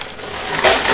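A tower of coins topples inside a high-limit casino coin pusher machine, a short, loud clattering crash of metal pieces that swells sharply near the end, with no voices.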